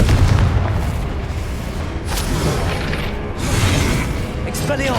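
Confringo blasting spell explosions in Hogwarts Legacy, repeated deep booms and sharp bursts over several seconds, with a character shouting amid the blasts.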